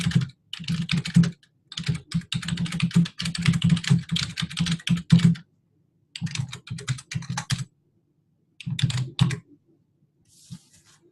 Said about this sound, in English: you can type a much longer description of what we're buying